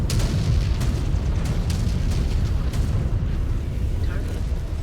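A destroyed target explodes in the mech combat game MechWarrior 5: Clans, a heavy rumbling blast with crackling bursts that roll on continuously, loud and close, without a clean single boom.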